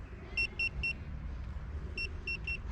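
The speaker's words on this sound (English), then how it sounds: "If you try and push it, it constantly brakes and is beeping" Locked Xiaomi Pro 4 electric scooter emitting two bursts of three sharp, evenly spaced electronic beeps as it is pushed, close and clear over a low background rumble.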